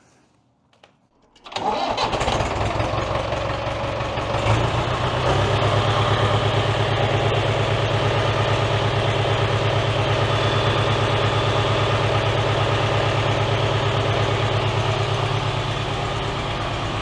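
A David Brown tractor engine with Selectamatic hydraulics starts up and settles into a steady, loud idle, its low, even rumble holding alone and close for the rest of the clip.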